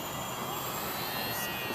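A small Parkzone UM Trojan RC model airplane flies with a constant thin electric whine and airy broadband hiss that hold steady throughout, with no talking.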